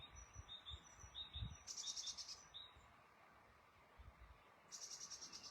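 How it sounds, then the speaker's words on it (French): Quiet outdoor birdsong: high, buzzy trilling calls repeat in short bursts over a soft background hum. "c'est le chant des oiseaux"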